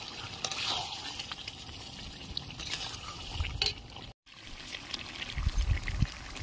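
Water is poured steadily into a pot of browned, spiced chicken for biryani and curry, a close, continuous trickling stream that breaks off briefly before more liquid splashes in.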